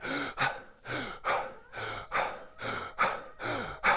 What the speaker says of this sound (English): just take 60 seconds to 2 minutes and just take deep breaths like this, and you want to actually make sound